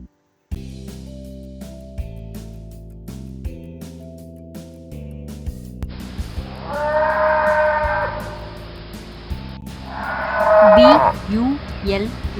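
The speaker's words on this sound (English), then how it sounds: "B-U-L-L bull." A bull moos twice, each call a long, loud, drawn-out lowing, rising over a light musical backing, the second more forceful than the first.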